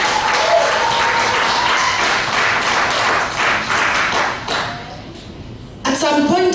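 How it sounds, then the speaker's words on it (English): A crowd of Kenyans at an address in Arizona, USA claps steadily for several seconds, the applause thinning toward the end before a voice and ringing tones cut in. "Give me a clap"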